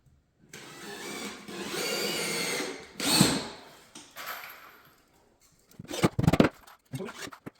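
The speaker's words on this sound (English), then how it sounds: "we can run a few screws right down that line that I drew so I know I don't miss any studs" Power screwdriver driving screws through a drywall patch into studs, several whirring runs of a few seconds each, close and fairly loud, separated by brief pauses and ending in shorter bursts.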